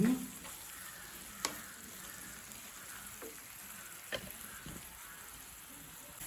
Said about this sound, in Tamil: இதோட நாங்கள் இஞ்சி பூண்டு விழுது அட் பண்ண போகிறோம் பண்ணி நல்ல வடிவாக வதங்கணும்